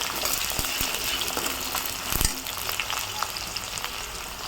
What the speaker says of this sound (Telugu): జీలకర్రలు వేసుకుంటున్నా వేసుకొని ఉల్లిగడ్డలు వేసుకుంటున్నా కలుపుకుంటున్నా